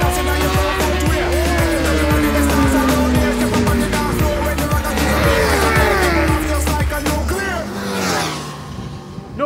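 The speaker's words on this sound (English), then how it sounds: "is it a treat to hear that supercharger chirp around the Buddh International Circuit" A Kawasaki H2 supercharged motorcycle laps the Buddh International Circuit, its engine revving loud and close with a rising and falling pitch as it shifts through gears, the rapid throttle changes coming in a steady run, over constant track noise.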